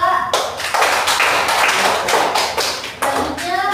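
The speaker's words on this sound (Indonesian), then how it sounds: "Kita kasih tepuk tangan untuk Jala." Brisk clapping from a small group in a classroom, steady and continuous for a few seconds, close and fairly loud.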